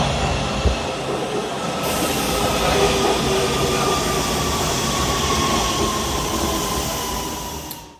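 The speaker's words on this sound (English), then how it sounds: "You just watched the LA Metro Beeline train arrive at the 7th Street and Metro Center station." An LA Metro train pulls into the underground 7th Street/Metro Center station, with a steady loud rumble of wheels and car noise lasting throughout and faint squealing from the rails.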